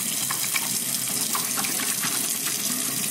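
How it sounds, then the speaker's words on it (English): Hot water runs from a tap into a sink during washing, a steady close splashing gush that continues evenly throughout with no talking. "I let the water run really hot"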